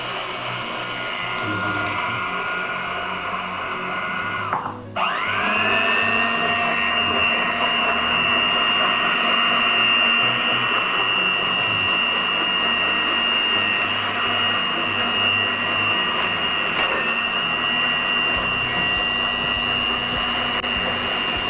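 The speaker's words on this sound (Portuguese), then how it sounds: "Vamos ligar a batedeira" An electric mixer whirs steadily while cake batter is made in a kitchen, with a brief dip and restart before a sustained high-pitched motor hum.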